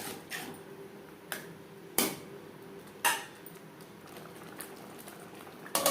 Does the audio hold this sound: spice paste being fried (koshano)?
yes